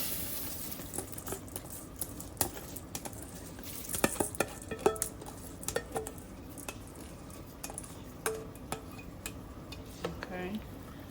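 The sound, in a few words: stirring rice and peas in a pot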